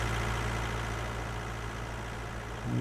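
A tractor engine in Farming Simulator 19 runs at a steady low drone, a continuous even rumble with no breaks and no voices.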